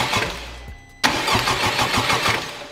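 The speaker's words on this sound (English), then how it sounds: "It just cranks for like 2 seconds." A rebuilt 2021 Honda Civic Type R, previously totaled, cranks on its first start with a quick rhythmic starter churn for about a second, then fires abruptly into a loud, steady engine running close by.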